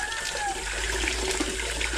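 Water runs steadily from a faucet for a couple of seconds, a constant rushing flow with faint background noise.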